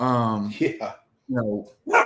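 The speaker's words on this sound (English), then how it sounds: "Sorry, that's my dog." A pet dog barks and whines at close range in a few short bursts, mixed with someone speaking in a home podcast setting.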